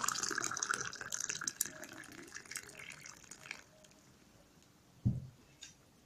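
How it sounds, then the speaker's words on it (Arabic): Boiled water is poured into a cup, a steady splashing stream for a few seconds that then trails off, followed by a sharp clink near the end. "كوبايه ميه مغليه كده معانا."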